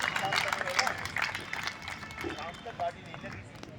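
An audience gives a round of applause to welcome an elderly speaker, a continuous patter of clapping from a crowd that tapers off, with people talking over it.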